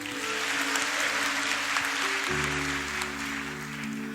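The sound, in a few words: audience applause and cheering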